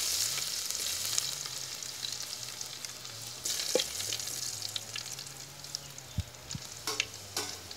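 Crushed garlic frying in hot oil in a pan, a constant crackling sizzle with a low background hum and a few sharp clinks and scrapes from stirring.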